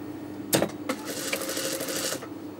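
A sewing machine runs a straight seam joining the crotch seams of a salwar, starting with a sharp clack and then whirring steadily and closely for about two seconds before stopping.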